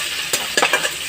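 Fried onions and chopped tomatoes stirred in a pan for biryani: a loud, close sizzle with a few quick spoon scrapes in a brief burst.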